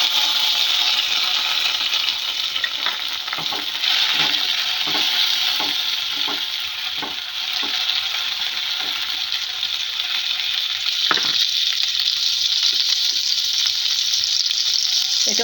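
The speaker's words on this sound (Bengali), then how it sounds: "এতে আছে পেঁয়াজ, রসুন আর টমেটো, এটা একসাথে দিয়ে দেবো।" Onion, garlic and tomato fry in oil with clove, cardamom and cinnamon, a loud steady sizzle broken by repeated stirring scrapes and clinks, with no one talking.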